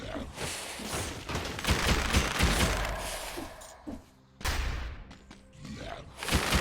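Enemy gunfire in the action game Dead Cells, with dense bursts of shots and impacts layered into loud, busy combat noise, a brief lull, then renewed firing and thumps.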